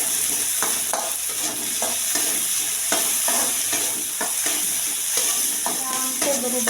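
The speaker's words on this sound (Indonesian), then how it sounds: "Tumis bawangnya sampai wangi ya teman-teman." Onions sautéing in a hot pan for a chicken and white tofu soup, with a steady close sizzle and repeated scraping stirs of a utensil throughout, no talking.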